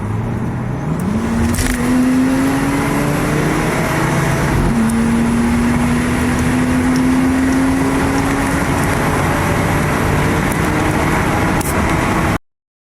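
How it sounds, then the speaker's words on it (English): A 1999 Nissan Skyline R34 with an automatic Tiptronic gearbox revs up from idle, its engine note climbing and holding, then dropping and rising again through a shift over steady road noise before cutting off. "This is my Nissan Skyline R34 automatic Tiptronic year 1999."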